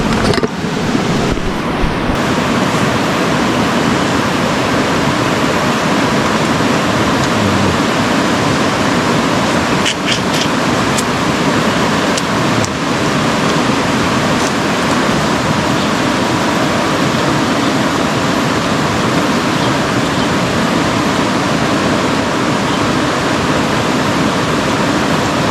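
Heavy rain falls steadily by a river deep in the upper reaches of a jungle, a dense, loud, continuous wash of noise with a few sharper spatters, no talking.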